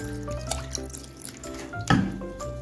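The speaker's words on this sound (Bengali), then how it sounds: "আমি একটু নর্মাল জল দিয়ে ছানাটা ধুয়ে নিচ্ছি, যাতে পাতি লেবুর গন্ধটা চলে যায়" Water splashes and trickles over fresh paneer curds being rinsed in a cloth to remove the lime smell, with uneven drips and a louder gush near the end, close by in a kitchen.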